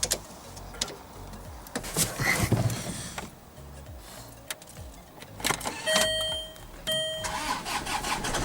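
A Land Rover Freelander 2 project car, left sitting dead, cranks and catches into a start, with broadband bursts and engine noise followed by tonal whines and clicks, fairly close and loud with no talking.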